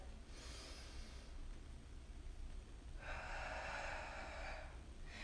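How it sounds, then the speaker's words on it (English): Soft, deep breathing during a yoga session, with a longer, airy exhale near the end, faint and close with no talking. "Inhale to lengthen. Exhale, stabilize. Last breath."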